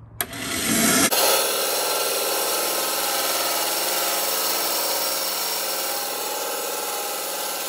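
A saw makes the first cut into a wooden blank for a Nakashima-style piece, a steady continuous grinding hum that runs loud and close for several seconds after a brief start.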